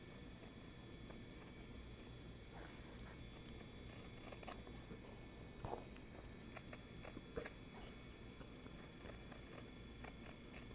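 Kai serrated scissors cut fabric just outside pattern lines in a sewing room: soft, quick, repeated crunching snips, close but faint over a steady room hiss, with no talking.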